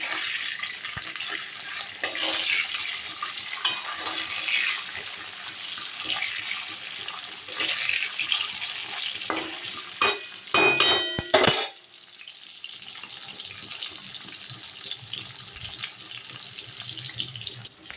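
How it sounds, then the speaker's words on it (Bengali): Katla fish pieces fry in mustard oil with a dense, loud sizzle and spatter, interrupted by a burst of clattering around the middle before settling into a softer, steady hiss. "মাছগুলো কিন্তু আমি ভাজতে বসিয়ে দিয়েছি"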